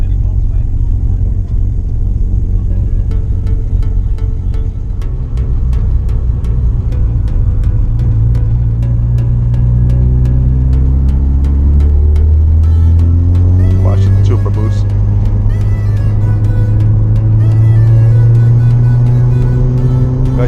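A Mazda RX-7 FD Spirit R rotary engine idling, then revving in rising, swelling pulls, loud and close, with people talking over it.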